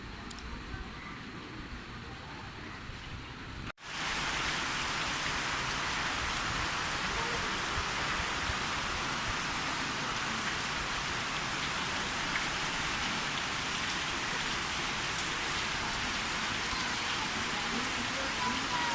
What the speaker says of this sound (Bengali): একটু একটু করে বৃষ্টি হচ্ছে